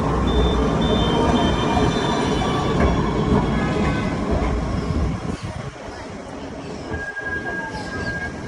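A train rolls past near Pier 2 Art Center in Kaohsiung, Taiwan, with a loud, continuous rumble of wheels and a few thin squeals, fading slightly toward the end.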